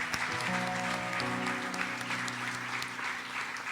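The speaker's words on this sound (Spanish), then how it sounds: "Demos un aplauso, iglesia." A church congregation applauds during a prayer service, steady mid-level clapping from many hands with a sustained musical tone underneath and no clear talk.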